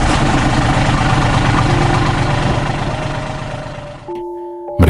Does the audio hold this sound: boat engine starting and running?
yes